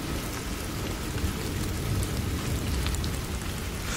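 Steady heavy rain pouring down, a dense continuous hiss with a low rumble underneath, unbroken and without voices.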